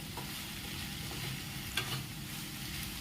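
Bobbara kaya (cowpea) curry simmering in a pan, with a low, steady sizzle and occasional quiet scrapes and knocks as it is stirred, no voices.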